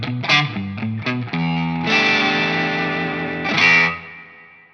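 Electric guitar driven through a Cornerstone Gladio gain pedal: several short overdriven riff notes, then big ringing distorted chords that sustain and fade out.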